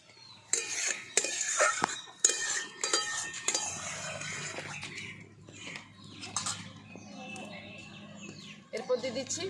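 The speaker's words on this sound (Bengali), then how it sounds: "আমগুলো খুন্তি দিয়ে একটু ফেটে দিচ্ছি।" Boiled mangoes being mashed with a metal spatula in a cooking pot, giving repeated clinks and scrapes in the first seconds that settle into softer stirring, with birds calling faintly in the background.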